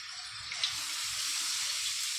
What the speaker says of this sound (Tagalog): Tapos lagyan ng tubig.